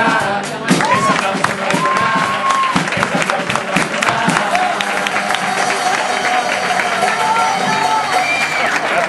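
Audience applause and cheering at a carnival chirigota performance, a dense, loud crowd wash that fills the whole stretch, with whistles and shouts rising over steady clapping.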